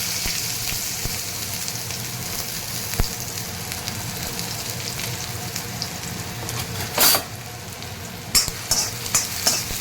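A finely chopped half onion fries in hot oil in a pan over a medium flame for Gobi Manchurian, giving a steady close crackling sizzle with stirring scrapes and a few sharper clinks near the end.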